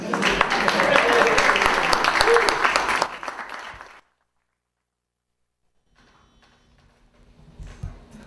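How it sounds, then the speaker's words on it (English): A small crowd at a local sweets shop gathering claps in a brief round of applause lasting about three seconds before fading to silence, followed by faint room noise and murmuring. "Just a round of applause."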